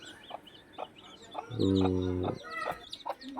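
Several chickens cluck in short bursts, with one drawn-out, harmonic squawk in the middle; close and fairly clear, no talking.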